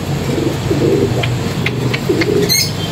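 Pigeons coo in low, soft repeated calls over a steady background hum, with a few faint chirps and a brief flutter near the end.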